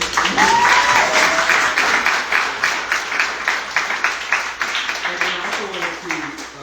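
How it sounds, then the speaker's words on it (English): A room of people applauds representatives of the Mississippi Band of Choctaw Indians at a farming panel discussion, clapping thinning into scattered claps as a voice talks over it. "Can we give a round of applause to them?"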